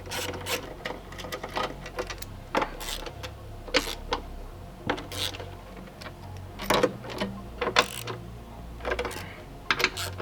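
Ratchet clicking in repeated bursts while 13 mm bolts come off the exhaust brace of a BMW G87 M2, with scattered metallic clanks between runs of clicks, close and with no talk.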